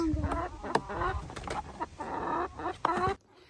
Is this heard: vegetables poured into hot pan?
no